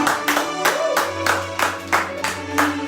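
A church congregation claps together in acclaim during a worship service, a run of loud, evenly spaced claps at close range, with a low sustained tone held underneath.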